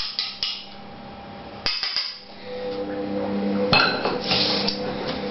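A knife folds flour into lemon drizzle cake batter in a bowl, giving soft scraping with a few sharp clinks of metal on the bowl, close and moderately loud.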